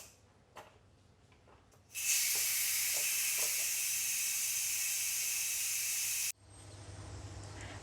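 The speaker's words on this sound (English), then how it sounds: "So I'm going to release the steam pressure from the pot." An Instant Pot cooking braised pork ribs with ginger vents its steam pressure in one loud, steady hiss lasting about four seconds. It follows a few soft clicks and stops abruptly, leaving a low hum behind.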